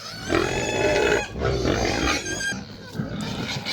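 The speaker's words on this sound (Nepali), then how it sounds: "गाइस सुँगुरहरू कराएर हेर्नु होला" Several pigs squeal and grunt at feeding time as rice is given to them, loud harsh overlapping cries in close bursts with brief dips between.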